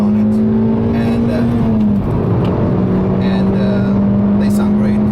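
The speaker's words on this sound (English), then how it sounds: "So you're gonna hear, although this one has a stock exhaust, it's quite loud actually." A Suzuki Swift Sport with its stock exhaust drones steadily from inside the cabin while driving, a loud continuous engine hum that dips briefly as it shifts gear and then settles back in.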